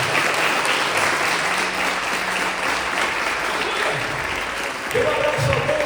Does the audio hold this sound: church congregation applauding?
yes